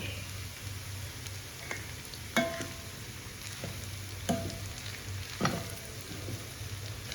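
Lemon sevai (rice string noodles) stirred in a hot pan, with a soft steady sizzle under a few sharp scraping strokes of the spoon against the pan, close and fairly quiet, no talking.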